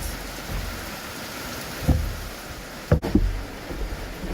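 Steady rain falls outside around a country home and garden, a continuous soft hiss with a few louder thumps and drips near the end, no voices.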